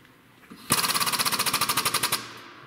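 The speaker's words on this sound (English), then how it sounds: "then I use a hammer to feather the edges" Rapid metal hammering on a dented tube to feather the dent's edges: about twenty quick, evenly spaced ringing blows in a steady burst after a faint tap or two, close and loud, then stopping.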